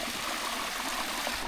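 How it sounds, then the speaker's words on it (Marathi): Water rushes steadily down a monsoon stream, a close, continuous broadband wash with faint gurgling and no voices. "त्यात वर कपडे धुलेलं पाणी येतंय."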